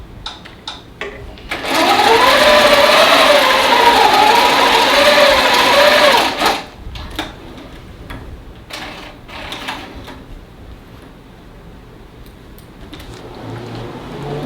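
A sewing machine stitches down the sides of a jelly roll quilt in a loud, steady run of about four and a half seconds, then stops; afterward come faint handling clicks and quiet room noise.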